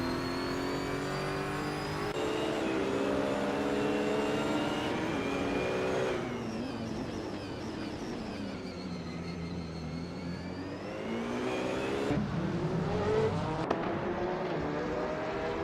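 Racing cars in a video game roar steadily through the first turns, engines holding high revs with shifting pitch sweeps as they settle into the pace, loud and continuous with no talking.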